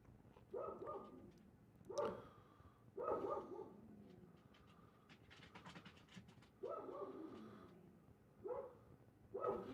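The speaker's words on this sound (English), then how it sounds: "If you're hearing the dog in the background" A dog vocalizes in the background, with repeated bursts of barking and panting-like sounds at a moderate distance across the stretch, while no one talks.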